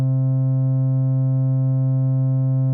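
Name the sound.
Buchla Easel V synthesizer oscillator tone through low-pass gate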